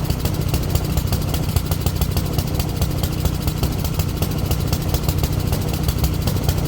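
Two-stroke engine running on premixed fuel at idle, a loud, steady, fast buzzing putter with even rhythm throughout and no voices.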